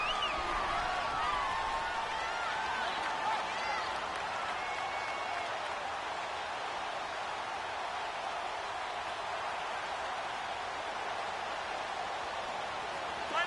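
Stadium crowd in a football video game played on PS4, a steady wash of cheering and applause swelling ahead of a big third down, continuous and fairly loud across the whole stretch with no talk over it.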